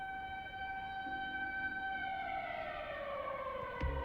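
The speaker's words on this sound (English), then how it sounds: "but the storm sirens going off." An outdoor storm siren wails steadily at a distance, its long rising and falling tone sustained through the whole stretch with faint background noise and no talking.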